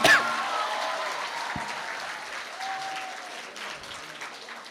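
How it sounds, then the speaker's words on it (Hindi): An audience at a Hindi comedy poetry gathering breaks into applause that starts loud and gradually tapers, a crowd of hands clapping with faint voices mixed in. "जोरदार ताली बजाओ।"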